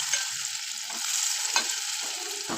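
Soybean chunks dropped into hot oil and frying in a pan, giving a steady close sizzle broken by the clatter of stirring and turning, with no talking.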